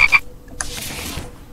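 Frog croaking in a video game: one short, close croak burst followed by a lingering rougher call, with no talk over it.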